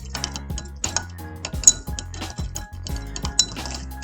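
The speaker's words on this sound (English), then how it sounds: "I'm going to stir it up and see what happens to the sugar cube as I stir it" Stirring a sugar cube in a glass beaker: a quick, continuous run of clinking taps of the stirrer against the glass, close and fairly loud, with no talking.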